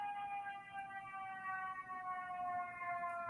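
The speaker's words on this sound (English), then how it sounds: "That's the ambulance." An ambulance siren wails at moderate distance, its tones rising and falling steadily over faint street noise.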